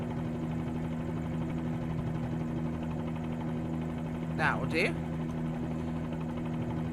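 Bell 47G helicopter in Microsoft Flight Simulator 2020, a steady droning rotor and engine hum throughout, with someone speaking briefly over it.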